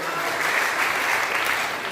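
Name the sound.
audience applause at a poetry gathering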